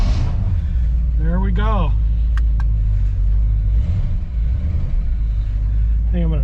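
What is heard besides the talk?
1959 Chevy 348 V8 engine cold starting and idling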